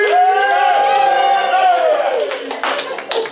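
A small audience at a collecting-stories panel cheers a speaker, one drawn-out shout ringing over the room before scattered claps break in near the end.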